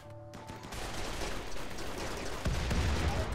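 Sustained gunfire from colonists' weapons in the game RimWorld, a dense rattling fusillade of overlapping shots that runs continuously at steady loudness, with a heavier burst of low impacts near the end.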